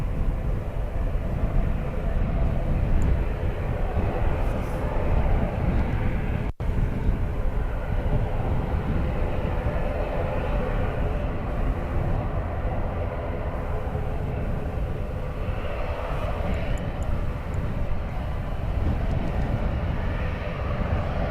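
A Loganair ATR turboprop at Dublin Airport drones steadily at moderate distance, a continuous low engine hum with faint tonal bands lasting the whole stretch, broken once by a sharp click, with no talking.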